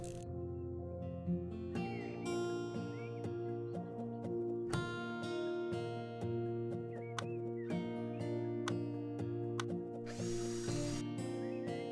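Electrical outlets being installed with tools in the House Flipper video game, a string of repeated ratcheting and mechanical clicks and clanks over a steady tonal background of game music, with no talking.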